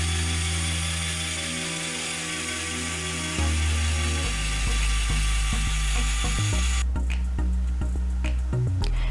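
A motorized LEGO pile-driver model runs its automated turning, giving a steady close mechanical whir and grind that shifts in pitch and load partway through, with no talking.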